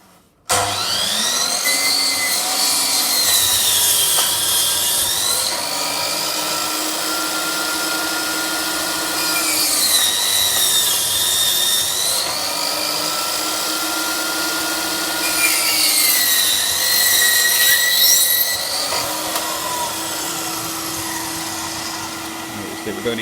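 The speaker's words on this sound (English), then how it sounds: "We've only cut a section of the way through the timber." A DeWalt mitre saw makes a partial-depth trench cut in timber, its loud motor whine rising and falling through three long passes with steady cutting noise between them.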